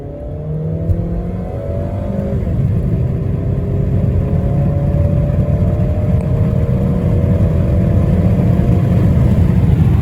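A 2014 Dodge Avenger accelerates hard from a standstill toward 60 mph, engine rising through the revs in a loud, continuous surge with a gear change early on and road and wind noise building beneath.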